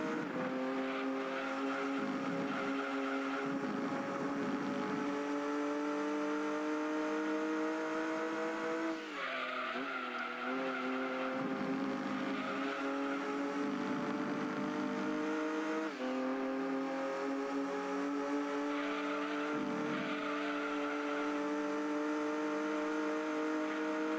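Race car engines in the Gran Turismo 2 video game, a steady high-pitched engine whine that holds and shifts pitch through gear changes and brief lifts, with a faint tyre squeal now and then and no voices.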